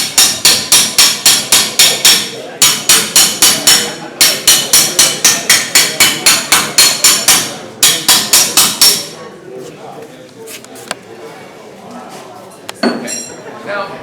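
Metal hammered on an anvil in a metalworking shop, rapid rhythmic runs of loud ringing blows in several bursts, followed by quieter scattered taps and handling noise.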